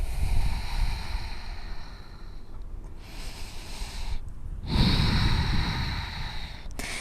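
Slow, deep breaths during a morning yoga flow, each inhale and exhale a long, airy rush heard up close with no talking.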